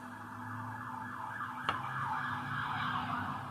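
A siren wails with a steady rising and falling tone, moderately distant and fairly quiet, with one sharp click partway through.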